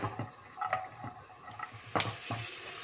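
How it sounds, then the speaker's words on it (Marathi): Cashew nuts frying in oil in a pan over a low flame, heard close as a soft, steady sizzle with light scraping and stirring clicks, alone and fairly quiet. "यामध्ये काजू घालूया आणि गॅसची फ्लेम स्लो ठेवून काजू आपण 2-3 मिनिटं फ्राय करून घेऊया."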